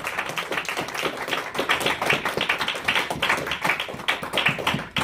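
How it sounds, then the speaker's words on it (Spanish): Congregation clapping during a church sermon, a fairly quiet, rhythmic patter of individual claps with distinct pulses rather than a dense roar, continuing steadily throughout with no voices. "Denle un aplauso fuerte al Señor."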